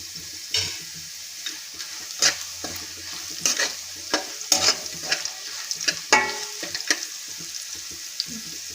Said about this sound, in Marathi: म्हणून एक मिनिट आपण याला तेलामध्ये होऊ देणार आहोत